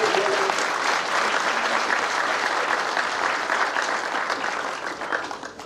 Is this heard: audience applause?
yes